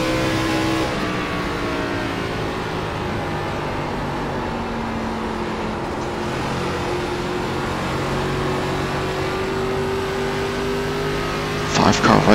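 Several race cars drone steadily in iRacing's ARCA Series on the Twin Ring Motegi oval, engines holding a constant pitch while a commentator talks over them.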